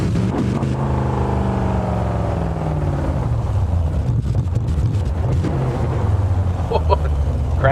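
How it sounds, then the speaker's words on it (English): Big racing car engines rev loudly at a Laguna track event, a sustained close roar with rising and falling pitch, under a windy, noisy background. "Listen to the sounds of those big engines. Rev them up, boys."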